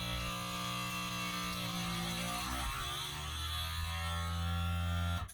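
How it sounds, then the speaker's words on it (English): A vacuum sealer pulls air out of a bag of raw steaks and pork chops with a steady, loud motor drone and hum that runs throughout, shifting slightly in pitch before cutting off at the end. "after it sucks as much air out as it can, it will automatically go into the sealing cycle"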